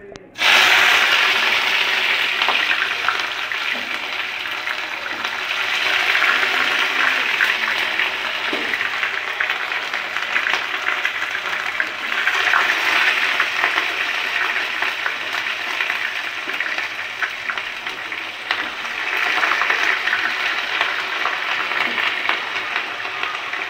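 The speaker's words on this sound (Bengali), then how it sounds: "ফুলকপিটা একটু হালকা ভেজে নেব" Cauliflower sizzles lightly in a pan for a vegetable mung dal: a steady, close frying hiss that swells and eases over about twenty-four seconds, with no talk over it.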